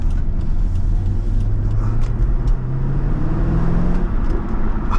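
A 2000 Chevrolet Corvette C5 V8 engine heard through an open window while driving, a loud steady low drone that rises gradually in pitch as it accelerates, with road and wind noise around it.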